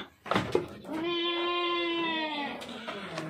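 One drawn-out, wavering bleat from a goat on a small goat farm in West Bengal, fairly faint, preceded by brief shuffling noises.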